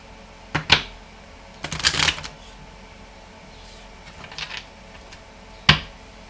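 A few short bursts of cards being riffled and snapped together, separated by quiet pauses, close by with no talking.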